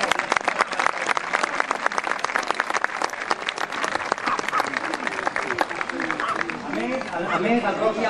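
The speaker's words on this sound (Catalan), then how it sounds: "Un aplaudiment pel Dagor i el Fèlix." A crowd claps for a trained dog and its handler at a local festival demonstration, sharp dense applause lasting several seconds with crowd chatter rising as the clapping thins toward the end.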